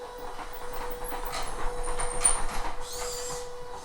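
A BB-8 droid robot reverses across the floor, its drive motors giving a steady mechanical hum with a constant whine and brief higher whirs as it backs up, moderately close with no talking.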